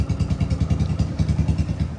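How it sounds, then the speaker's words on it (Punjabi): A cold motorcycle engine warms up at idle with a rapid, even low thumping pulse, close and steady for the whole short stretch. "ਪਹਿਲਾਂ ਕਰ ਲਈਏ ਮੋਟਰਸਾਈਕਲ ਨੂੰ ਗਰਮ"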